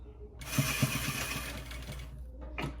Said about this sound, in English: So I'm gonna go ahead and sew this on